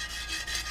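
Strips of ordinary torn sandpaper rubbed against a small foam rubber block on a board give a steady, close scratchy friction with slight back-and-forth swells, heard alone.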